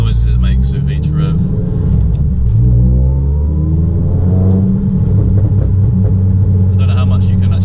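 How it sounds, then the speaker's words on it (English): Ford Fiesta ST150 with a custom RS-style dual-exit exhaust revving on a country road, engine rumble rising and falling through several revs, heard from inside the car with some background noise. "I just want to show you the kind of revs and noises it makes with each rev"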